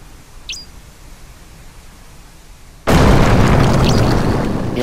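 Bomb blast in the video game Astlibra, a quiet stretch with a faint blip before a sudden loud boom that settles into a sustained roaring rumble.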